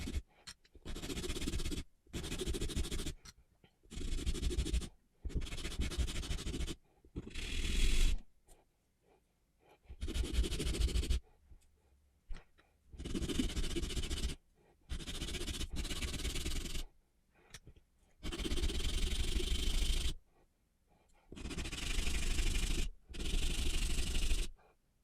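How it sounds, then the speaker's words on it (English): Jagged ends of small cut pieces for a miniature case are sanded by hand in a series of close, raspy rubbing bursts with brief pauses between strokes. "I'm going to sand the ends of them because they're a little jagged"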